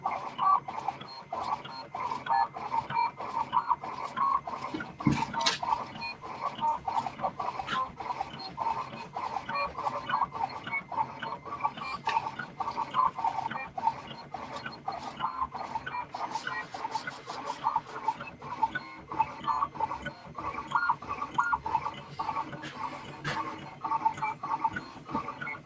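A Siser Romeo cutting machine works through a large 24-inch rhinestone template, giving off continuous mechanical whirring and squeaky, chirping motor movements with frequent irregular clicks, moderately close, without talk.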